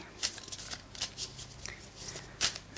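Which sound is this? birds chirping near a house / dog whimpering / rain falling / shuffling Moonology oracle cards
shuffling Moonology oracle cards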